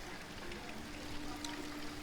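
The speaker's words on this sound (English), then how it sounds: "people come fill up water bottles" Thermal hot spring water in Sofia pours and splashes steadily into bottles as people fill them, a continuous close trickling wash with no talk.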